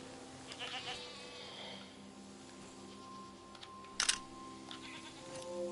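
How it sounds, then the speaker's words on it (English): Baby goats bleating, a few faint, brief calls scattered over a low background hum, with one sharper click-like sound near the middle. "Homecoming, baby goats."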